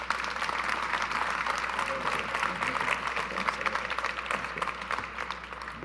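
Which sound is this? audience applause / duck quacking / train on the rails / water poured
audience applause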